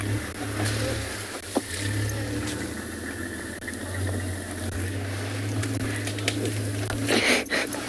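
Another safari vehicle rolling past at a sunrise game drive, a low steady engine rumble with outdoor ambience and light knocks, moderately close.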